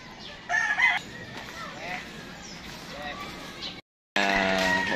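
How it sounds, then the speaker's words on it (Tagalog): A rooster crows loudly near the start, with chickens clucking around it, followed by more crowing and clucking after a brief gap; someone speaks over the birds. "Hen, ito yung hen, ito yung cock."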